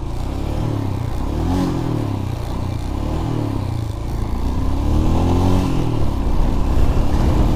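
A motorcycle engine droning steadily while riding, a close rumbling hum with slight revving swells that grow a little louder toward the end.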